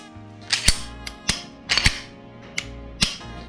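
After cleaning, a pistol is checked for function. Several sharp, close mechanical clicks and snaps from the slide and trigger come at irregular intervals in a quiet room.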